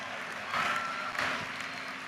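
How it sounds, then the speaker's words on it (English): A commencement audience at the University of Maryland breaks into applause, soft broad clapping that swells after a quiet start and then holds steady, with a faint whistle-like tone in the crowd. "he deserves a round of applause."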